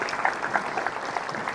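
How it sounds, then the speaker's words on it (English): An audience claps for a panel at a talk, a brief burst of even, moderately loud applause with no voices over it. "Can we get a round of applause for our"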